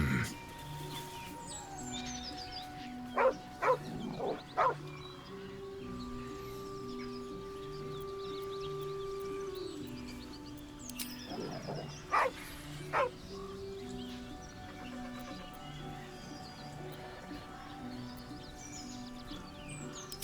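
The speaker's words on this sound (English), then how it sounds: "it's not a wolf. It looks like it's actually a dog" A dog in Baldur's Gate 3 gives a few short, sharp barks in two brief bursts over a steady game music and ambience bed, moderately close and loud against the background.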